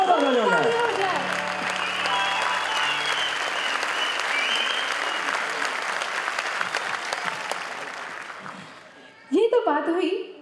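An audience at a live stage music show gives loud, sustained applause for the sitar and tabla players, with voices briefly heard at the start and again as the clapping dies away.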